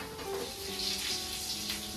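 Garlic and oregano frying in white oil in a pan for mushroom soup, a steady soft sizzle held close and fairly quiet for a couple of seconds.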